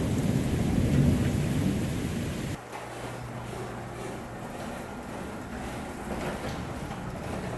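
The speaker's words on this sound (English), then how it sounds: "It was raining pretty hard, but now it's let up." Heavy rain beats down in a backyard during a thunderstorm, with loud rumbling thunder at first that cuts out abruptly, leaving a steady dense rain hiss.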